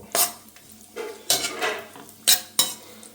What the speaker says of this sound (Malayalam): അണ്ടിപ്പരിപ്പും മുന്തിരിങ്ങയും വറുത്ത് കോരുക എന്നുള്ളതാണ് ആദ്യത്തെ ടെക്നിക്ക്